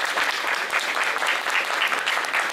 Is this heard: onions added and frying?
no